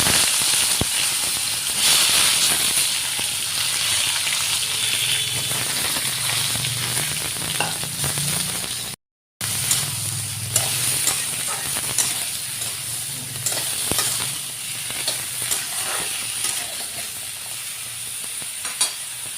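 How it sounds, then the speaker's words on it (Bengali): Eggplant fries in a little oil with salt and turmeric, a steady close sizzle and hiss with scraping stirring strokes throughout, briefly cut off midway, for a Bengali hilsa and eggplant mustard dish. "বেগুনটা আমি ভাজা নিমু।"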